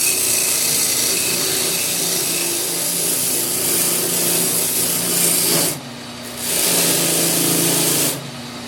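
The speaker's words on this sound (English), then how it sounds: "we're gonna rub this over the mop sander." A power mop sander buffs a scroll-saw raised inlay cross made of wood, giving a loud, continuous whirring rub close by with two brief dips where the piece is lifted away.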